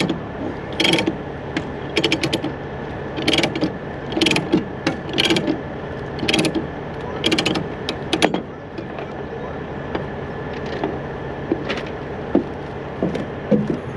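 A chain binder holding steel coils on a truck is ratcheted tight in repeated bursts of metallic clicking and clanking, up close and fairly loud, slowing to sparse clicks near the end.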